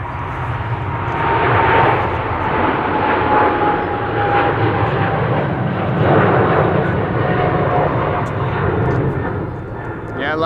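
A China Southern Cargo Boeing 777 departs Amsterdam Schiphol for Shanghai with a loud, swelling jet engine roar and a thin whine, while people talk over the noise.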